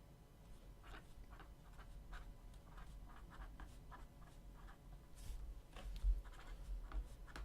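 A marker scratches out a line of writing on a board in a math classroom, a run of quiet, rhythmic strokes close to the listener with no talking.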